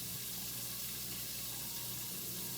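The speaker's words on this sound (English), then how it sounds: "We're rinsing out the noodles with hot water." Hot water pours from a kitchen tap over noodles being rinsed in a sink, a steady hissing rush that stays loud and even the whole time with no voices.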